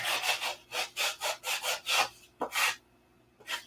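Sandpaper rubs a flat into a piece of wood being shaped by hand, in about eight steady, rhythmic back-and-forth strokes, close and fairly loud, followed by a pause and one more stroke.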